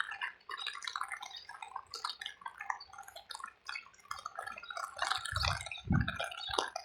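Rainwater drips in scattered, irregular taps during a rain shower in Kuwait, some drops near and sharp, others fainter, over a soft wet background with no talking.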